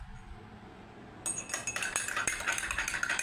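Metal spoons are washed in water with dishwashing liquid. After a second of near silence comes a run of close, bright clinks and scrapes with light watery swishing.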